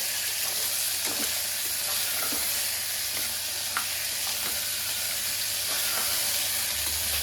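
Crushed crab meat sizzles steadily in a hot pan while being cooked for Tamil crab rasam, a dense, even frying hiss with faint stirring clicks and no voices.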